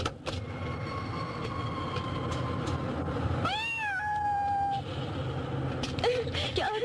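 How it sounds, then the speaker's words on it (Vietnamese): A cat meows amid a busy scene with background noise and voices, its rising and falling cries standing out clearly midway. "Mèo ơi làm tao sợ quá."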